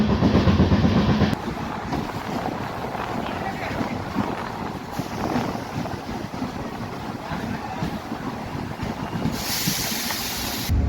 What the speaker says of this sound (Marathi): आपली सांगली डेमो एक्सप्रेस पोहोचली आहे लातूर रेल्वे स्टेशनवरती